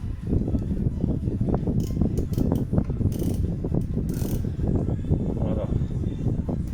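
Ratchet wrench clicking as it turns a bolt during front suspension teardown on a Peugeot 309 GTI, a steady close rapid ratcheting over background workshop noise, with someone talking at times.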